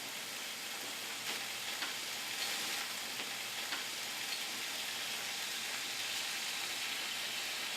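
Sirloin sizzles in a pan with onions, a soft continuous frying hiss with occasional crackles and tong clicks, fairly faint and close, with no one speaking.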